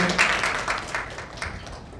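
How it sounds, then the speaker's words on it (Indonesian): Audience clapping at a national symposium on speech delay, a scattered burst of individual claps that starts fairly strong and thins out, fading lower toward the end with no talk over it. "Tepuk tangan dulu untuk Mbak Sari."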